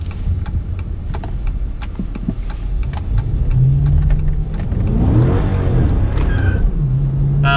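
A Hemi-powered Chrysler 300S sedan accelerates hard while traction control cuts in, its engine note climbing and then stumbling and surging in waves, loud and close.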